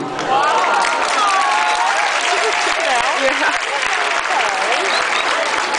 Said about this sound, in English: I'm gonna applaud for you.